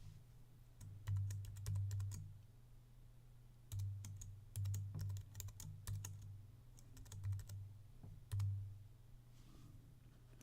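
Someone types a file name on a computer keyboard in quick bursts of clicking keystrokes, close and fairly quiet, separated by short pauses, with no talking.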